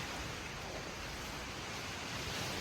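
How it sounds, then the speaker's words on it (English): Strong wind roars through a White Mountains forest while tugging at a tree, a dense continuous rushing that buffets the microphone without a break. "The wind is just pulling this tree up out of the ground."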